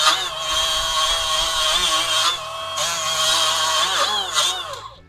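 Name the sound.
Ryobi 18V cordless die grinder polishing with wire brush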